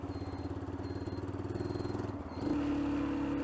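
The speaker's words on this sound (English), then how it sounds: "Rev bomb." Motorcycle engine with a pulsing rhythmic idle that swells, dips, then jumps into a higher sustained rev near the end, close and moderately loud.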